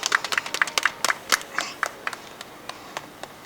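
Applause at a Korean disability-rights rally for accessible transport, with several people clapping briskly near the microphone, then thinning out to a few scattered claps.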